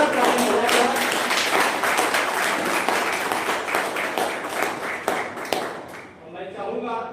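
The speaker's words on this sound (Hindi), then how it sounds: "इसके लिए काफी जोरदार ताली हो जाएगा" Audience applause at a live ashram seva samiti stage event, dense steady clapping from a crowd that thins and fades toward the end.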